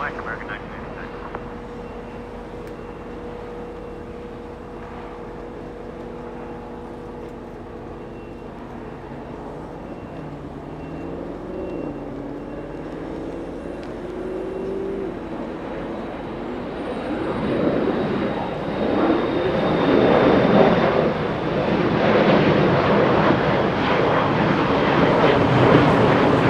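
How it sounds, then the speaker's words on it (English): An American Airlines Boeing 787 Dreamliner begins taxiing at Los Angeles International Airport. Its engines hum steadily, then swell into a louder, rising roar toward the end, with voices talking over it. "That's a Dreamliner, that's American Airlines beginning taxi"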